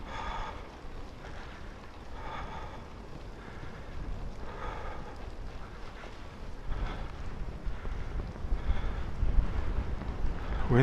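Wind blowing on a cold solo ride below freezing, a continuous broad rushing roar buffeting close at hand and gradually growing stronger, with no voices.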